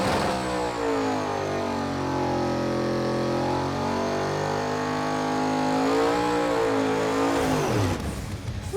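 Modified Blasphemi car with coil-on-plug ignition, dry sump, different clutch and transmission revving steadily on fresh rear tires before a drag race, a loud sustained engine drone rising in pitch near the end.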